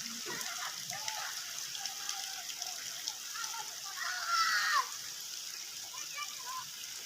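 Heavy rain falling on flooded village roads, a soft steady hiss of drops and splashing water, with a brief louder splash midway and a voice talking faintly in the background.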